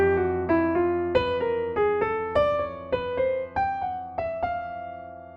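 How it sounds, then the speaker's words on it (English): Jazz piano plays a bebop enclosure line, a run of about a dozen distinct notes struck in a steady, swinging rhythm, close and clear with no talking. "That's a pretty common enclosure pattern that sounds like this."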